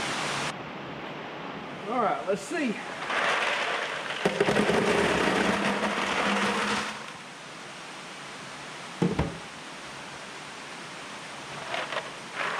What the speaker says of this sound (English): Excuse the rain. I know it's hard to hear me in this metal building.